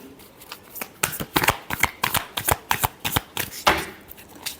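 Tarot cards being shuffled during a reading, a quick run of crisp riffling flutters and soft slaps in close succession, loud and near with no talk over them.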